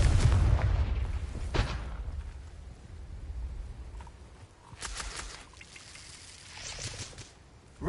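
A Confringo explosive spell blast in Hogwarts Legacy on hard mode, a deep booming burst at the start that decays into rumble, followed by a few lighter crackling impacts, with no talk.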